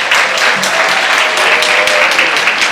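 Steady audience applause fills a book discussion event, a dense crowd clapping evenly and loudly from start to finish with no break.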